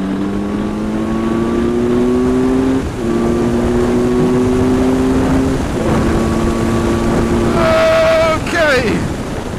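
A motorcycle engine in sport mode revs up through the gears, each rising pitch broken by a brief drop at a shift, then a final sharp rev, heard close with heavy wind rush over everything.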